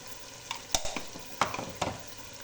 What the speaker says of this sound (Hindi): तमाम स्पाइसेस ऐड करने के बाद मैं इसकी अच्छे तरीके से भुनाई करूँगी।